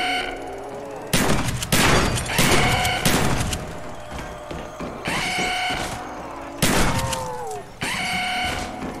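Shotgun blasts boom in Call of Duty Black Ops zombies mode. There are about five or six loud, widely spaced shots with clattering impacts and game effects in between.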